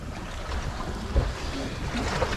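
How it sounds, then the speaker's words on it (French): Moderately rough sea off the Balearic Islands washes against a sailing boat in 2023, a steady broadband rush of water and wind noise close to the microphone, with no voices. "Les vagues, la mer est un peu formée"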